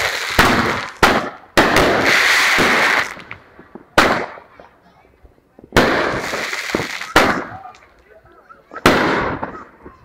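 Fourth of July fireworks bursting nearby in loud, sharp booms with crackling tails, about six blasts spaced a second or two apart, separated by short quiet gaps.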